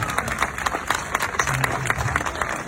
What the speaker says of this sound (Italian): E ancora un ultimo applauso per lei,